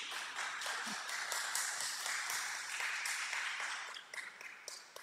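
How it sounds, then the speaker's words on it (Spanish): An audience at a poetry recital gives poets a scattered, moderately quiet round of applause, with individual claps standing out and tapering off toward the end. "a quienes pediría un gran aplauso para ellas"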